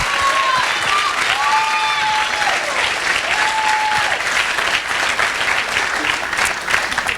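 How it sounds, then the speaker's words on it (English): A crowd claps loudly and steadily for several seconds, with a few whistles rising above the dense applause. "join me in giving them another round of applause"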